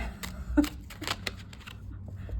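Tarot cards are shuffled by hand in a series of quick, soft riffling bursts, close and fairly quiet, with no talking over them.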